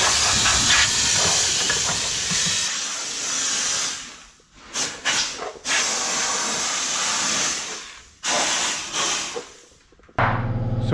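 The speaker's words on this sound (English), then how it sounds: "kind of hitting it with the bigger spray gun" Loud hissing bursts from a spray gun applying undercoating beneath a truck, several long sprays separated by brief pauses, close and harsh.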